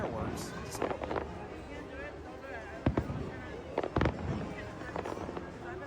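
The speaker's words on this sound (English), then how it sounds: "here are some fireworks to celebrate" Fireworks at Disneyland pop and boom as several sharp bursts over a continuous crowd murmur, with people talking nearby throughout.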